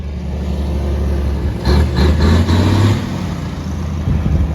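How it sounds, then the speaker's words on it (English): A truck rumbles past a parked vehicle idling with its hazard flashers on, a low engine drone swelling briefly as it goes by, close and fairly loud. "Sit here with the flashers on until this truck goes by."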